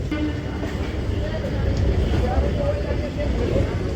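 A train pulls slowly into Sealdah station in the evening, giving a steady low rumble and rolling noise heard from on board, with a person talking over it.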